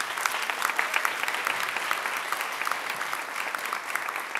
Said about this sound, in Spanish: un aplauso para todo el equipo Marfil